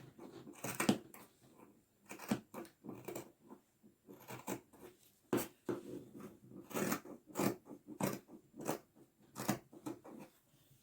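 Scissors cut through shirt fabric for a men's shirt, a series of close, soft snipping crunches in uneven bursts with short pauses, fairly quiet and without talk.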